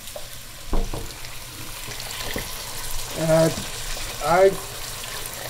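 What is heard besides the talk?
hot water poured into Persian celery stew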